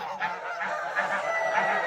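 Domestic geese in a farmyard honking continuously at feeding time, a dense chorus of overlapping nasal calls from several birds close by.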